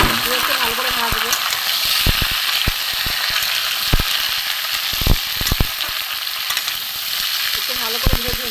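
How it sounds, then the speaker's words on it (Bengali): Raw banana, potato, sweet potato and papaya fry together in a pan for shukto, a loud, dense sizzle broken by sharp clicks of stirring, with a voice briefly heard at the start and end. "একটু ভালো করে ভেজে নিই"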